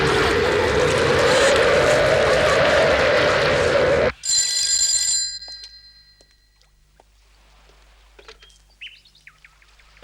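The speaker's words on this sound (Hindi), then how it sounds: "सुनिए बॉस, मोरिनो का फोन है आपके लिए।" A telephone rings briefly in a house in a dubbed action comedy film, a short electronic trill that cuts in after a loud noisy passage and then gives way to quiet room sounds, with no talking.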